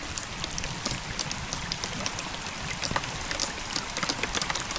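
Heavy rain during Typhoon Crising falls in a dense, continuous hiss, with scattered louder drops and splashes patterning the steady downpour throughout.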